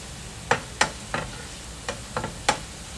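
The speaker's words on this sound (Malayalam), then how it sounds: "ഉള്ളിയൊക്കെ നന്നായി മൂത്ത് വന്നിട്ടുണ്ട്." Onions fry in a pan until brown, with a soft sizzle beneath a handful of sharp, scattered scraping stirs from a utensil, all close and fairly quiet.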